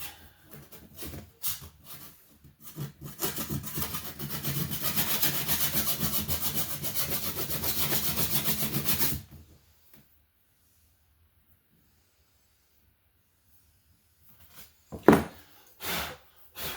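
Metal filing on a 4L60 transmission valve body from a 1989 vehicle, a steady rasping scrape for about nine seconds after a few short strokes, then near silence broken by a couple of sharp knocks.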